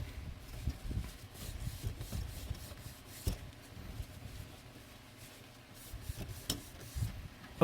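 Soft, close rubbing and wiping as grease is cleaned off the propellers of a SYMA X8G quadcopter drone, an irregular scratchy friction with small taps, fairly faint and with no talking.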